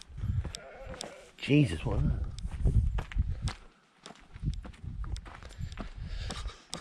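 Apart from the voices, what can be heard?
goats fighting on hills behind Symi Town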